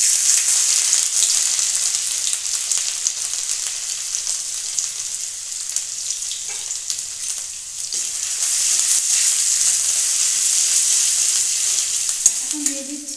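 Ginger fries in hot oil in a kadai, a loud, continuous crackling sizzle that persists throughout with faint stirring clicks and no talk.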